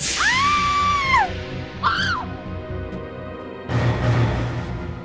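A woman screams in a TV crime drama, two loud falling shrieks followed by a short burst of noise near the end, with no speech over it.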